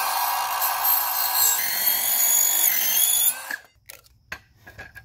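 A harsh, high-pitched mechanical whine of a saw cutting metal runs continuously, then abruptly stops, leaving a few scattered clanks and faint knocks.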